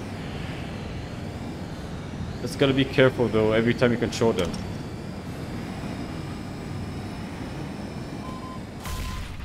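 A WAC helicopter in Garry's Mod hums with a steady engine drone throughout, while someone speaks briefly over it and a short burst of noise cuts in near the end.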